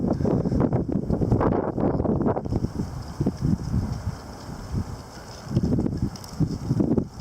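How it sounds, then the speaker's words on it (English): Strong gusts of a windstorm buffet the microphone in loud, uneven rushing bursts, easing briefly mid-way before surging again. "A little bit of a windstorm going on, I guess."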